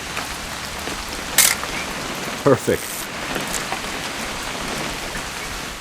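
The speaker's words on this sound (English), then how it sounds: "It's gonna rain the whole weekend, isn't it?" Steady rain falls through a scene in the video game What Remains of Edith Finch as a continuous hiss, with a few brief louder knocks. A person speaks briefly over it.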